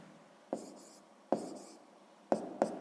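Pen writing numbers on paper while working a math exercise, four short scratchy strokes with pauses between, close and quiet in a hushed room.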